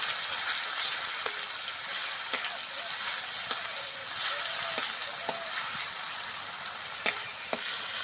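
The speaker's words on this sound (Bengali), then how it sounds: "পেঁয়াজ বাটাটা আমি তেলের উপরে দিলাম, এটা ভাজা ভাজা করে নেবো আমি একটু।" Ground onion paste sizzles in hot oil in a pan, a steady close hiss broken by small sharp pops and occasional clicks of stirring.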